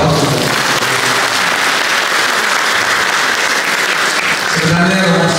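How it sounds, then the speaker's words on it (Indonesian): An audience at a public university lecture gives sustained, dense applause that fills the whole stretch at an even, loud level, with a slight swell toward the end. "jadi kita berikan aplaus"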